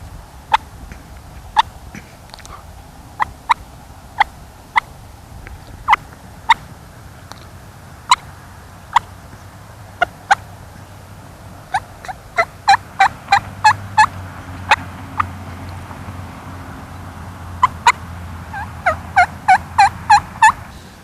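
Hand-operated turkey call imitating a hen waking on the roost: soft, widely spaced clucks and tree yelps that build into quicker strings of sharp notes, close and fairly quiet over low background hum.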